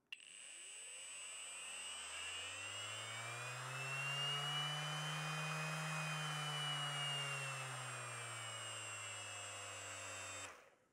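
An Aimsak cordless power tool on an 18V battery spins up to a steady, loud whine, holds it with a slight swell in the middle, then cuts off after about ten seconds, with no talk.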